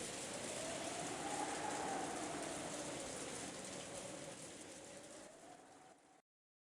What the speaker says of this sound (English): the sound of the wind and rain began to fill the room bit by bit